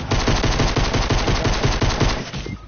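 Loud, sustained automatic gunfire in the Fortnite video game, a fast steady rattle of shots lasting a couple of seconds before cutting off, close and dominant with no talk over it.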